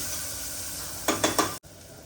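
Onion and green chilli sautéing in a pan give a steady soft sizzle, broken by a few quick stirring scrapes near the end.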